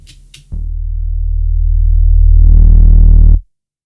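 A synth sine wave duplicated an octave up: a low steady tone swells in after a brief soft blip, grows louder, then a higher octave layer joins to thicken it before the sound cuts off abruptly.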